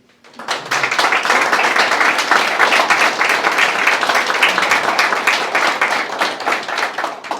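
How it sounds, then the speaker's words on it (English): A room full of people breaks into applause, steady and fairly loud, with brisk overlapping claps that fade out at the end. "If we could give her a round of applause."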